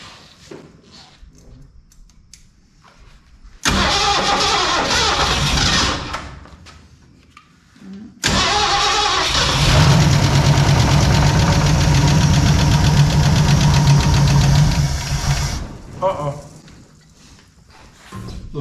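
A Ford 302 V8 in a 1968 Chevy C10 cranks and fires, roaring loudly for several seconds, dropping briefly, then catching again into a sustained rough, loud run before fading, with faint voices around it.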